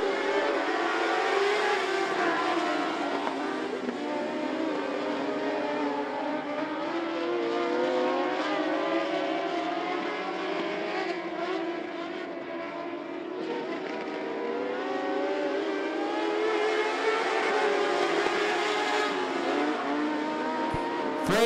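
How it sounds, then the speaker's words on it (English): Modified race cars (Mod Lites) at I-75 Raceway roar together as the field takes the green flag, a loud, continuous, layered engine drone with rising revs throughout, no talk. "Freddie Prosser Jr., Micah Collins leading the field to green flag racing."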